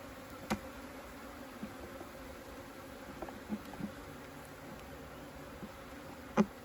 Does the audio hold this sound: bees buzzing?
yes